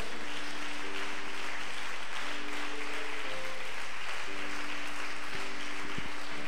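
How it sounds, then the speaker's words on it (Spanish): A church congregation claps in praise during a Spanish-language worship service, a dense, steady wash of many hands filling the room, with faint sustained tones underneath. "Dele un aplauso al Señor esta mañana."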